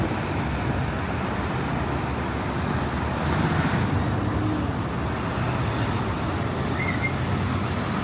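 Steady street traffic on Seventh Avenue in New York rumbles continuously as cars and a garbage truck pass nearby, with one swell of louder engine noise midway and a faint hiss of brakes.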